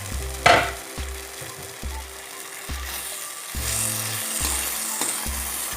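Tomatoes frying in a pan for an Assamese tomato and gourd fish curry, a soft sizzle beneath a prominent musical backing, with a sharp clatter near the start and the frying rising later.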